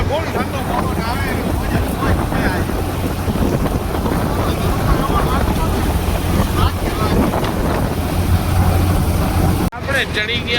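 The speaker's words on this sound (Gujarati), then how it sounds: "ફૂલે ફૂલ ઠંડો પવન આવે," Cold wind blows hard across a market bridge in Jamnagar on an overcast, rainy day, a loud continuous rushing roar buffeting the microphone throughout, with a brief cut near the end.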